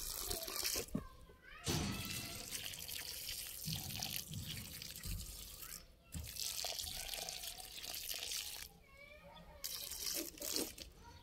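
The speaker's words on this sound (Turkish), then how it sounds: "Şimdi bunlara can suyu vereceğiz." Newly planted tomato seedlings being watered by pouring from a bottle into the soil around them: a near, steady splash and trickle of flowing water with a few short pauses, and a voice speaks briefly.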